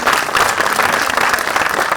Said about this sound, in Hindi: एक बार जोरदार तालियों से अभिवादन करेंगे।